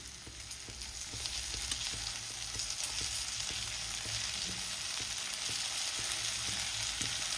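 Ridge gourd fries in oil in a home kitchen pan with a steady, close hiss of sizzling, broken by faint regular stirring taps, and no talking.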